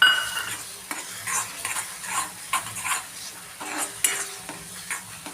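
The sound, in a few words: masala with fried cashews frying in a pan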